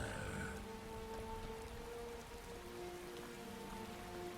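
Steady rain patters continuously on surfaces in the video game Skyrim, a soft, even hiss of drops with faint game tones underneath and no talking.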